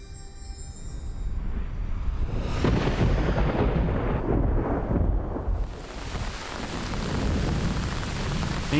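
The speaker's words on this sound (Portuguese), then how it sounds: "Em junho, as monções trouxeram chuvas abundantes." A heavy June monsoon downpour in a forest of tea plants, with dense rain hammering surfaces and a deep thunder rumble rolling through, loud and continuous with no voices.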